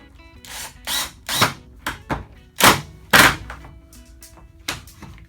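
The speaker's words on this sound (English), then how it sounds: "we're gonna drive one screw up in there" Power drill driving a screw into a wooden crosscut sled: a series of short, loud whirring bursts, each a second or less, with brief pauses between them and quiet workshop hum underneath.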